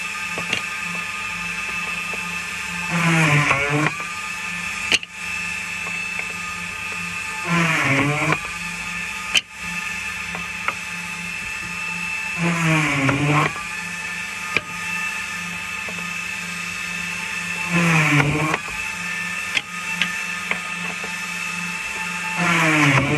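Hole-drilling machine running at normal speed, a steady close mechanical whine with a high pitched tone throughout, broken by about five recurring dips and rises in pitch as it bites into the work, with sharp clicks between, no talk.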